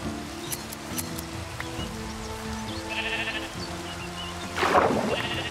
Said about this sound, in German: Hier die Schafe.